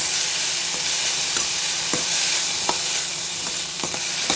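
Banana stem pieces stir-fried with softened onions in a pan, a steady sizzle running throughout with intermittent scraping strokes of a spoon, close and fairly loud, no voices.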